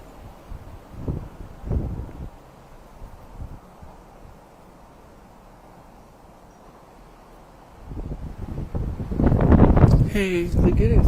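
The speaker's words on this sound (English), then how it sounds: "Dang, it is so windy out here." Strong outdoor wind buffets the microphone in low, uneven rumbling gusts that grow louder toward the end, with a person talking over them.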